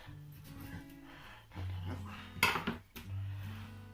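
A knife scraping along a butcher-broken chicken bone on a board, a few short metallic scrapes and clicks with one sharper scrape standing out, mixed with a speaking voice.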